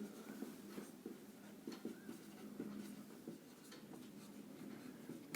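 Chalk or marker writing on a board during a maths lesson: quiet, irregular scratching strokes and taps with short pauses between them, close and faint.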